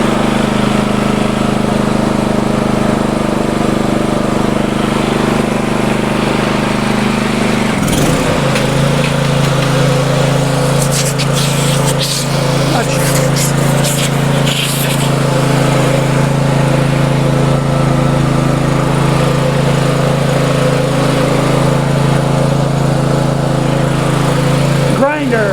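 An inverter generator in eco mode runs loud and steady, with a constant engine drone. Partway through, a shop vac and an angle grinder start up on it together, adding a harsh high whine under the engine.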